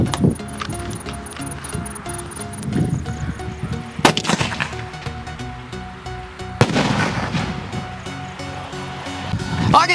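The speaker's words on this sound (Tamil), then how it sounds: "இது வந்து ஒரு பெரிய சைஸ் அவுட்" A large Sivakasi firework shell bursts with sharp, loud cracks at two distinct moments, each followed by rumbling, crackling decay over an outdoor background.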